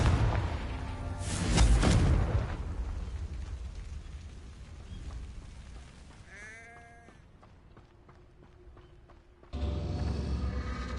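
Confringo fire spell in Hogwarts Legacy: a loud fiery blast swells and fades, followed by magical whooshing tones and a hum, then another rumbling burst near the end.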